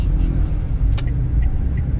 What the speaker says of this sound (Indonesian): supaya bisa ngegas sedikit.